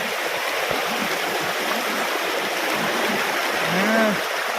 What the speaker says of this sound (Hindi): छोटे झरना